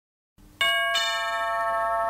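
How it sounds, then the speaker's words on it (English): A doorbell rings with a two-tone ding-dong chime, loud and close, the second tone sounding right after the first and both ringing out with a long sustained decay. "The doorbell rang."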